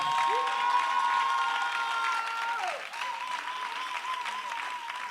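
A church congregation applauds to acclaim the Lord, a dense, steady clapping that fills the room for the full stretch, with a sustained tone ringing over it that fades partway through.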